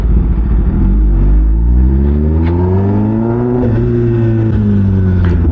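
A loud Kawasaki ZX10R motorcycle rides through Chanakyapuri in Delhi, its engine rumbling close and revving up and down with rising and falling pitch, alone without talk.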